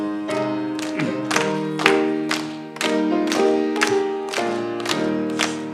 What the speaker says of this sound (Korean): 361장 박수 치면서 찬양하겠습니다.